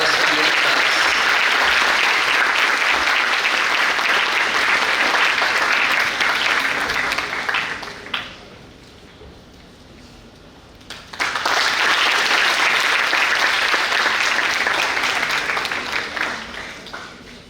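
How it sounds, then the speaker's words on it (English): Audience applause welcoming guest speaker Dr. Ramdas GV at a gathering of new medical doctors, loud and sustained, dropping away briefly in the middle before swelling back to full clapping and tapering at the end. "welcome Dr. Ramdas GV sir with a huge round of applause and a bouquet of flowers"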